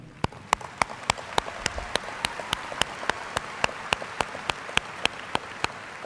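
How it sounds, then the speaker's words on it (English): A graduation audience applauds in a broad, even wash of clapping, with one nearby pair of hands striking sharp, evenly spaced claps throughout. "Join me in applauding such high academic achievement."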